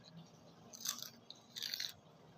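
Crunchy fried salmon belly strips are bitten and chewed at close range with rice, two distinct crackling crunches amid quiet mouth sounds.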